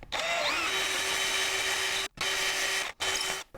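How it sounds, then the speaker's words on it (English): A power drill bores straight into a wooden board with a 1/2 inch bit, a loud whining motor with a steady hum, stopping twice briefly before resuming, close by with no talk. "I'll just drill straight in, while this is firmly pushed down as the lowest position possible."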